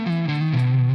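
Electric guitar played through a distortion pedal turned all the way up, a loud sustained gritty tone sliding between a few held notes, close and alone.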